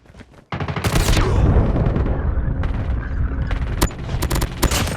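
Rapid automatic gunfire in the mobile shooter Call of Duty Mobile, sustained bursts with sharp cracks and booms, loud and close, continuing with a few isolated shots near the end.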